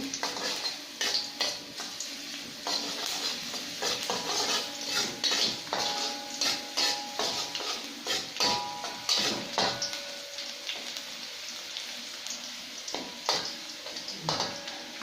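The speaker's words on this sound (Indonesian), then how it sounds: "Kita tumis terlebih dahulu bawang putih" Garlic sautéing in a pan while cooking crispy shrimp in sweet and sour sauce, with a steady soft sizzle under repeated clinks and scrapes of a utensil stirring against the pan, close and moderately loud, no talking.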